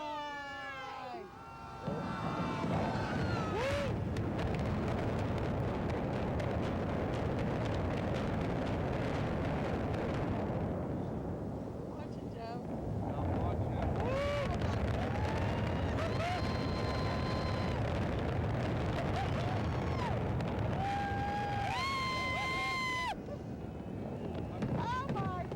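The Three Rivers Stadium demolition implosion rolls on as a long, heavy, continuous rumble and roar with wind buffeting the microphone, distant crowd voices and cheering mixed in throughout.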